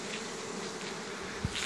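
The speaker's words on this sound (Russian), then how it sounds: "Пчелы есть у Дениса." Honeybees hum softly around the hives at an apiary, a faint, even outdoor buzz with a brief low bump near the end.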